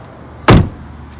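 BMW i8 door released by pulling its red lever, giving one short, fairly loud mechanical clunk that fades quickly into quiet.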